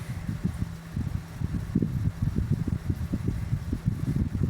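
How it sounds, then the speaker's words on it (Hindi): Steady outdoor wind at an upper-floor home buffets the microphone in low, uneven gusts that rumble continuously throughout, with no one talking. "थोड़ी सी ठंड आ गई है, हवा चल रही है"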